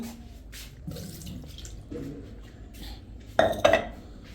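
Dishes and pots being tidied in a home kitchen, with soft clatter and a couple of louder clinks near the end, plus faint running-water-like background.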